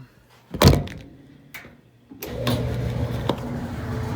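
A clothes dryer's door is pressed shut onto its door switch with a sharp close-up thunk and a lighter click, and then a steady low hum and rumble rises as the machine starts running.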